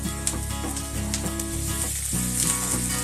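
Onion frying in a pan over high heat, a steady loud sizzle with broadband crackle running the whole time, a few brief stirring scrapes, no voices.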